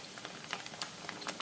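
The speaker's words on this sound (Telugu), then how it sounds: "ఇప్పుడు ఈ కరివేపాకును కూడా ఆయిల్లో మంచిగా ఫ్రై చేసుకోవాలి" Fresh curry leaves fry in hot oil for a Telugu tomato and red chilli pickle, giving a faint, steady crackling sizzle with scattered soft pops close by and no voices.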